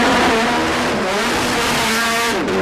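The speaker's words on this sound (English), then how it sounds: "These are the fastest GT cars in the world, and their battle to be #1 is a fight to the finish." Several GT race cars with purpose-built racing engines and chassis roar past loud and close, engines revving continuously with pitch rising and falling as they accelerate and shift, a brief tire squeal near the end.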